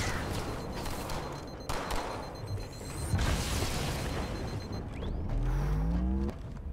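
Halo 2 Anniversary battle with a grenade blast and bursts of rapid gunfire, loud booms and crackling shots layered over a busy game soundscape with whooshing weapon effects.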